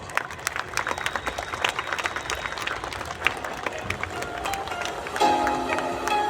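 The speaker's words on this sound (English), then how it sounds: "Let us welcome them all with a huge round of applause." Audience applause welcoming guests and parents at a school ceremony in St. Michael's Sr. Sec. School, New Delhi: a steady wash of many hands clapping at moderate distance, with crowd murmur and a faint voice underneath, a tone entering near the end.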